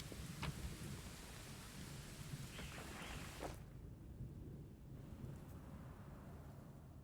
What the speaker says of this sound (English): But is the thunder I'm hearing in game?